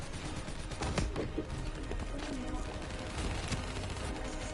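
Turret in Black Ops 3 fires rapid bursts of gunfire, a dense rattling stream of shots with a few louder cracks, heard amid game sounds and a brief voice.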